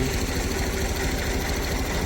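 A tractor engine idles nearby, producing a steady, loud, low mechanical throb with even knocking pulses and no change in pace across the short stretch.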